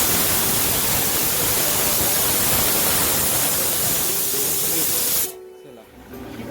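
A pressure cooker cooking lentils gives a loud, steady hiss of escaping steam, running continuously for about five seconds, then cutting off abruptly, leaving quieter background.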